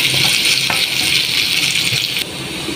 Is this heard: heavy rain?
no